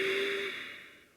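A single long breathy exhale during a chair yoga flow, close and soft, fading out over about a second with no talking.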